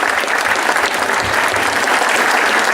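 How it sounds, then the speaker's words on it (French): Dense, steady audience applause fills a crowd gathering at a 2014 blessing of the animals, loud and continuous throughout with no voices standing out. "Alors je vous demande de l'applaudir"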